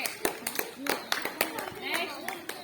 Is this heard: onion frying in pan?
no